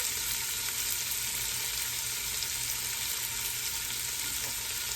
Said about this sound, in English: So I'm going to let my vegetables just saute up a little bit